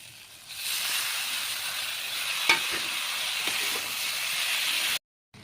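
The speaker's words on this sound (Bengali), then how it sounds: "তো এতে আমি এখন পটল আর টমেটোগুলো দিয়ে দেবো।" Pointed gourd and tomatoes hit a pan of nearly browned onions and turmeric, setting off a loud, steady sizzling hiss with a single stirring clank partway through, then a sudden cut to silence.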